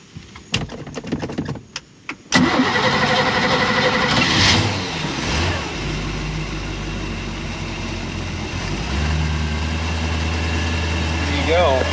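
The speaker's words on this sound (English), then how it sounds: "Just had to get a little fuel in the bowls and she fires right over." The Chevy 5.7L 350 V8 in a 1991 Malibu ski boat cranks over with a few sharp clicks, then fires and settles into a loud, steady, rumbling idle close by, with voices talking over it.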